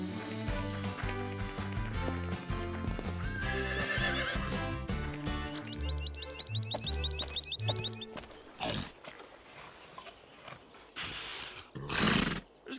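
Horses gallop and whinny over swelling orchestral music in a cartoon, hooves pounding and then fading into clattering movement near the end.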